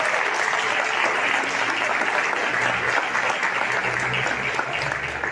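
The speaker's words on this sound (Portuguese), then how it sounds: "Você pode aplaudir o Senhor mais uma vez?" A church congregation bursts into loud, sustained applause, many hands clapping in a dense continuous roar, with faint voices mixed underneath.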